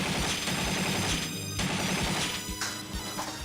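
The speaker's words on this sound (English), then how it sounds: "Heavy machine gun." Heavy machine gun firing in the King of Fighters AllStar fighting game, a dense continuous rattle of rapid shots layered over loud game effects and music with no pauses.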